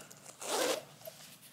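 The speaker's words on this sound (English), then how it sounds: "right where the zipper would zip up right there" A clothing zipper zips once in a short, close rasp lasting about a third of a second, with quiet room tone before and after.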